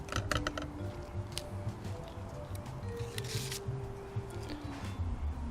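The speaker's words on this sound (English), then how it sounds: "use a paring knife and actually cut it right down the middle" A paring knife slices down the middle of a cardoon stalk in a kitchen, giving close, quiet crisp crunches and scraping clicks in an irregular run, with faint talk in the background.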